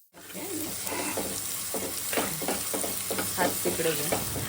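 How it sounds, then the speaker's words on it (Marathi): Sesame seeds and a ground paste of coriander, cumin and chilli hit hot oil in a kadhai and sizzle loudly and steadily, with stirring scrapes over the frying hiss. "कढईत तेल गरम करायचं तेलामध्ये तीळ टाकायचे आणि तिळावर आपण जे वाटण केलेलं आहे धणे जिरं आणि मिरचीचं ते टाकायचं"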